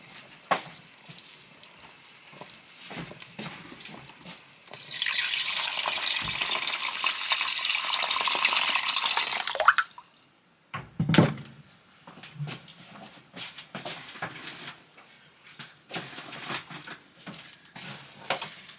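Water pours steadily into a sizzling pot of pork for several seconds, then stops, followed by a clunk and quieter cooking sounds.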